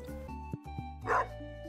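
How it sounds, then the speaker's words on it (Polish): A barking cactus creature in a video game gives a short run of small yipping, whimpering dog barks, close and clear over a steady game soundtrack, with no talking. "On szczeka. Szczekający kaktus."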